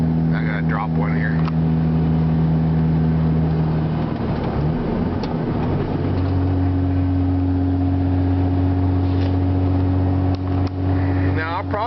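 Diesel pickup truck engine with a stock setup and small chip, droning steadily while climbing a grade, engine tone shifting down in pitch mid-way as a gear drops, someone talks over it.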